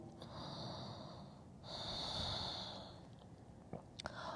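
A huge deep breath taken during a yoga stretch: a steady airy inhale, a brief pause, then a longer, stronger exhale, close to the microphone with a few small clicks at the end and no speech.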